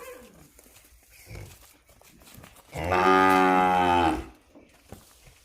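A pure Kankrej cow at a busy cattle market lets out one loud, long moo that lasts about a second and a half, with faint voices and market noise before and after.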